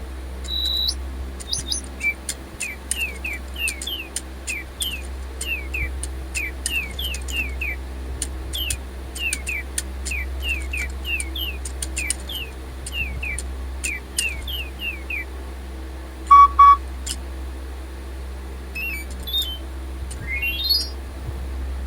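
Electronic toy birds on low batteries, repeated short synthetic chirps in quick rhythmic runs, broken by a couple of flat electronic beeps and a final rising warble, close and fairly clear over a low hum.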